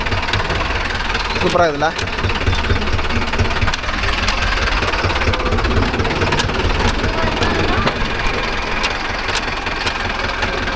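A Mahindra Arjun Novo 605 DI tractor runs with a 5-point cultivator attached, its diesel engine giving a loud, steady knocking rumble throughout, close by, while someone talks over it.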